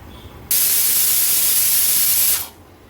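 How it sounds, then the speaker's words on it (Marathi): A sharp, loud hiss of steam bursting from a pressure cooker, starting abruptly, holding steady for about two seconds, then fading away. "जर कुकरच्या शिट्ट्या एकदम फटाफट होत असतील तर तुम्ही 4 शिट्ट्या काढल्यात तरी चालेल."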